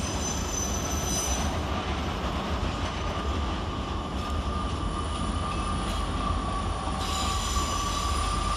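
Loud, steady rumble of Class 159 diesel trains pulling away from London Waterloo station, with rolling wheels and a high squeal of steel on rail throughout.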